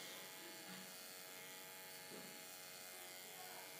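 An electric hair clipper runs with a steady, close buzzing hum while it chops hair into tiny fiber pieces, continuous throughout, with soft scraping of the clipper against the hair.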